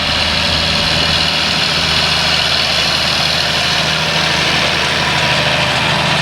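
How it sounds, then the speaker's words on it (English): An old New Holland tractor engine idles steadily in a Norfolk field, a loud, constant low rumble with no change in pace and no voices. "That's a fairly old New Holland tractor."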